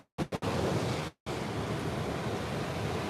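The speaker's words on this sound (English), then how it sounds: "Look at those waves, and not a single person out right here." Ocean waves breaking on an empty California beach, a steady broadband roar of surf with a couple of brief cutoffs near the start, then continuous wash with no voices.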